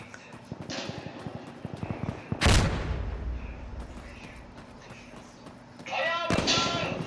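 Gunfire rings out in the video game Insurgency: Sandstorm, a single heavy shotgun-like blast followed by a decaying roar, with rapid clattering shots and another burst near the end, loud and close amid background noise.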